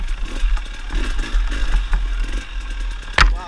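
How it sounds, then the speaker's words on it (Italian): A KTM 300 TPI fuel-injected two-stroke motorcycle idles close by with a low steady burble, and one brief sharp clatter is heard near the end. "Qua il motore è tutto al minimo, questo TPI a iniezione non è più come i vecchi a carburatore"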